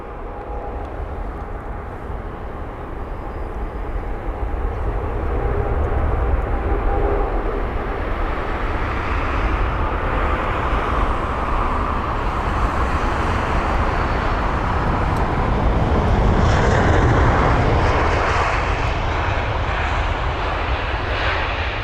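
A British Airways Airbus A320ceo with retrofitted sharklets, flight BA1417 from Belfast, arrives at London Heathrow, its jet engines roaring in a steady broadband rumble that swells as it passes close by, then holds loud and sustained with no voices.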